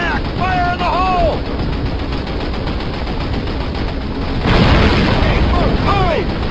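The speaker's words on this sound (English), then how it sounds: "plant your explosives and take that flak panther out" Planted explosives detonating in a World War II Call of Duty campaign mission against a flak panther, a dense rumbling blast and gunfire bed with a surge of louder explosion near the end, with shouting voices over the din.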